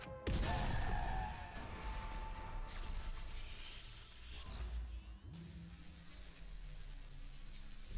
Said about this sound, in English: smashed it down into the control panel